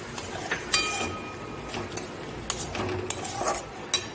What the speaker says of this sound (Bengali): অল্প জল দিয়ে মশলাটা ভালোভাবে মিশিয়ে নেব।